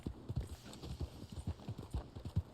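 Horse hooves in the video game Red Dead Online, a quick rhythmic clip-clop of repeated hoofbeats at close range, alone without talk.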